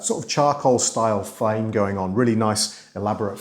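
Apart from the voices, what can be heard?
No distinct noise like a dog, phone or traffic.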